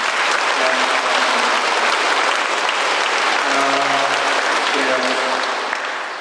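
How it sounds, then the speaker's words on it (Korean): An audience at a festival lecture gives a long, loud round of applause, dense clapping sustained evenly for several seconds before tapering slightly at the end. "박수 한번 크게 칠까요?"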